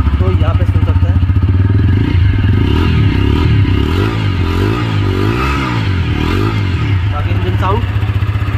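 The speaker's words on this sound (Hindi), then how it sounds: "एक बार इसकी जो है एग्जॉस्ट की मैं साउंड सुनाता हूँ आपको" A 2024 TVS Apache RTR 160 4V motorcycle engine idles loudly and steadily close by, its exhaust giving a deep, rapid thumping pulse with slight rises in revs throughout.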